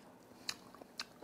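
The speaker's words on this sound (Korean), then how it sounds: "왜 이렇게 찝쩍거려 그냥 조용히 먹으면" Someone chews conch pasta made with Jeju horned turban sea snail, giving a few quiet, close, wet smacks and soft crunches spaced about half a second apart.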